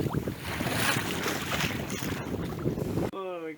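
A sailing boat moving at about 4 knots, with loud, steady wind buffeting the microphone and water rushing past the hull, ending with a brief electronic chirp.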